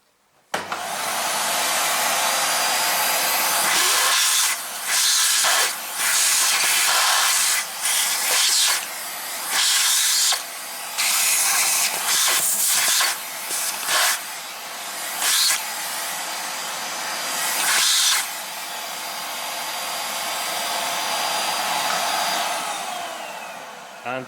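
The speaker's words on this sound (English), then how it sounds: "Now I start my vacuum cleaner." A vacuum cleaner runs while dust is cleaned from a car's brake disc and caliper area during a repair for fault code C0205, a loud steady hiss with repeated dips and surges as the nozzle moves, no talking.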